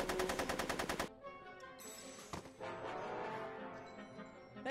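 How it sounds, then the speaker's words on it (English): Gunfire in the Back to the Future: The Game video game, a rapid burst of machine-gun shots for about a second, followed by a lingering reverberant tail, a brief sharp crack, and ongoing background game noise. "Are you shooting at me?"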